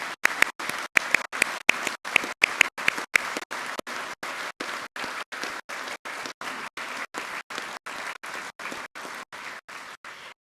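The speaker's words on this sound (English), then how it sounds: "Please join me, everyone, in giving them a round of applause." An audience at an Army ROTC commissioning ceremony breaks into sustained applause, a dense wash of clapping from a large crowd that carries on steadily for the whole stretch.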